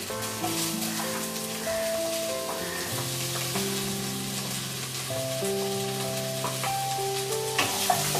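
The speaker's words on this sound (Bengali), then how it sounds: "দিয়ে মশলাটার জন্য এগুলো একটু ভালো করে ভেজে নিচ্ছি" Cashews, roasted sesame and chopped tomato frying together in a pan for curry masala, a steady close sizzle and crackle running throughout with occasional stirring clicks.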